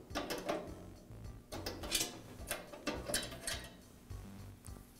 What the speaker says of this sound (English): I pull up on the electrode and then push it out towards the